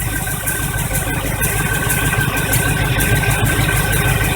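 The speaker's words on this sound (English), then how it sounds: "It took a little bit to get the fuel up there and fill up the bowls in the carburetor, but it's running again." A carbureted engine in a 1985 Chevy truck idles after a fuel pump change, running steadily and close up with a rhythmic low chug, a light rattle and a faint whine, and nobody speaking.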